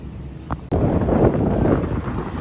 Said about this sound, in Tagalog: Ang hangin naman ngayon. Napakahangin ng kitchen sa 5th floor.